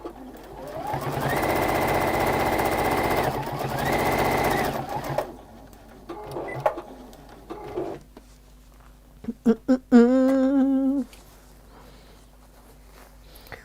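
Domestic sewing machine stitching in two sustained whirring runs, close and loud, followed by scattered clicks, handling knocks and a brief higher mechanical whine before quiet.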